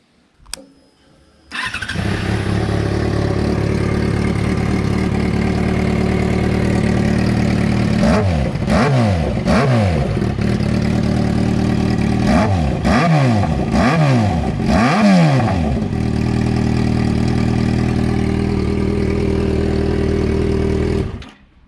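Yamaha XJ6 motorcycle engine fitted with a Dominator GP1 exhaust, started up and idling steadily for about twenty seconds with several sharp throttle blips in the middle, loud and close with no talking.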